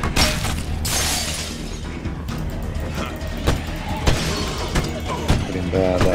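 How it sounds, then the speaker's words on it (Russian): Windows being smashed in State of Decay: repeated sharp crashing and shattering hits spread through the clip over continuous game noise and a low background rumble. "Давайте все окна побьем, а?"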